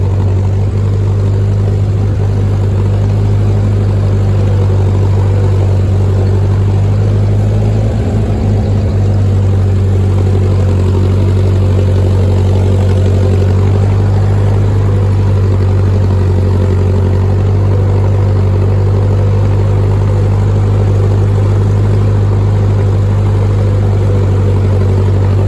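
Engine of a 1946 Ford 2N tractor running while driving, a loud, steady low-pitched chug close to the microphone that carries on unbroken for the whole stretch with no talk over it.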